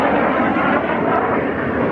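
Display aircraft at the RAF Cosford Air Show rolling under to turn away, a steady, loud, broad engine roar holding evenly throughout with no pause.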